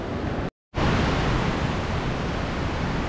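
A small waterfall from a side tributary creek pours steadily in a continuous, loud broadband rush heard close up, with a brief cut in the sound near the start and no voices.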